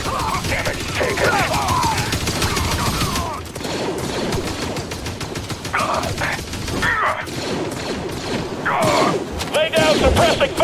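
Rapid blaster fire between clone troopers and purge troopers in Star Wars Jedi: Fallen Order, dense overlapping zaps and shots throughout with combat callouts from soldiers mixed in.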